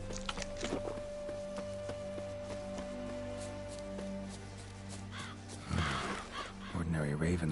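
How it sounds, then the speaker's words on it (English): Several ravens caw in The Witcher 3, their harsh calls repeating over steady game ambience and music, with louder, closer bursts of cawing near the end. "Ordinary ravens, looks like."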